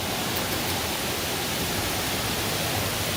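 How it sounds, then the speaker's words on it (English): Huge waterfall inside a theme park cave, a steady, dense roar of falling water filling the space evenly and without break, close and continuous with no voices. "you can also see the huge waterfall that's in here"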